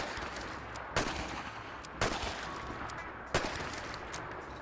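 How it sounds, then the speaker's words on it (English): Three spaced revolver shots from the Bulldog Revolver in Fallout 4, each a sharp crack over a steady background of game ambience, fairly faint overall and with no talk. "here we are back at Deathclaw number 1 with the regular Bulldog Revolver. Alright, let's see how many shots it takes."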